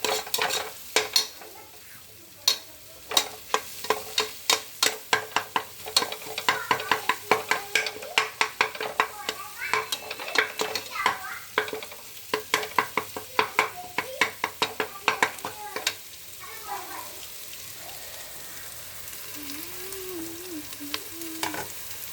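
Egg frying in oil in a pan, a continuous sizzle under a rapid series of sharp spatula scrapes and clacks against the metal that stop near the end, leaving a softer hiss and a brief high squeak.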